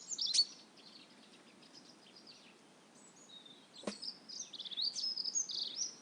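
Birds sing and chirp outdoors at low volume, with scattered high calls at the start and a denser run of song toward the end, one sharp click in the middle, and no voices.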